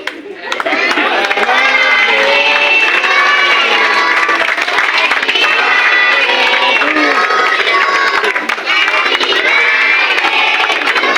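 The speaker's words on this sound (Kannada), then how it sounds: "ಜೋರಾದ ಚಪ್ಪಾಳೆಗಳು ಪ್ರತಿಯೊಬ್ಬರು ಕೂಡ ಮಕ್ಕಳು ಕೂಡ ಜೋರಾದ ಚಪ್ಪಾಳೆ ಮಾಡಬೇಕು" A crowd at a village felicitation event claps and cheers loudly and steadily for about ten seconds, with children's voices and shouts mixed in.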